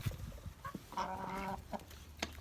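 Black Sex Link chickens clucking nearby, a few short soft clucks and one longer drawn-out cackling call in the middle, fairly faint and heard without speech.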